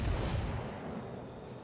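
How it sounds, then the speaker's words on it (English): A long-range battleship gun salvo in World of Warships lands as a heavy, booming blast right at the start, then rolls off into a long low rumble that decays steadily. "Try a longer range salvo into the Iowa."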